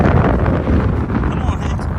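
Wind in Death Valley, the hot desert, buffets the microphone with a loud, steady, close roar and low rumble that fills the whole stretch without a break.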